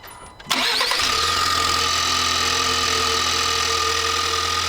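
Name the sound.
2024 Ford Maverick Tremor 2-liter EcoBoost engine running, loud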